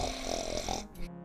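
A sleeping character in the video game Gothic 3 snores once, a loud, rough, throaty rumble that fades out abruptly at the end.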